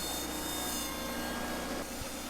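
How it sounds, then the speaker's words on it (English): A Ventrac boom mower on a compact tractor chews into small tree stems along a ditch. Its grinding, rough cutting noise is loud and continuous and sits over a constant machine drone. "If it encounters something pretty big or hard for it to cut, it sort of just gnaws at it"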